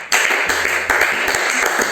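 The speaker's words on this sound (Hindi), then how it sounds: "भाई एक बार फिर तालियां बजाओ इसके लिए" Brief burst of hand clapping from a small audience, a dense patter of claps starting suddenly and continuing for about two seconds, loud and close.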